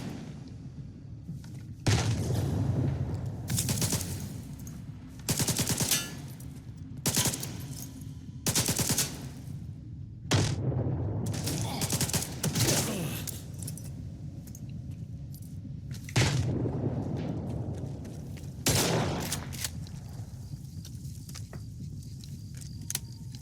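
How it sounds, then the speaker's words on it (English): Gunfire in the video game S.T.A.L.K.E.R. 2: repeated bursts of loud automatic fire separated by short pauses, with thuds and sharp impacts between bursts over half a minute of combat. "You guys like the way I shoot a gun at a guy without even aiming it at him?"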